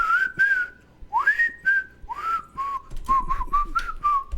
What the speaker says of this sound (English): is just to whistle it myself, because it has to be transformative enough